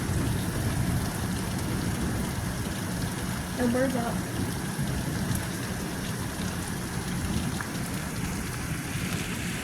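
Steady rain falls outdoors in a garden, a dense even hiss filling the whole stretch, with people talking briefly over it.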